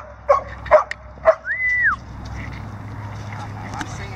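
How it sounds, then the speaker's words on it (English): Several short yips and barks from dogs playing nearby in a round pen, followed by a rising whine, then quiet outdoor background. "The dogs playing in the round pen."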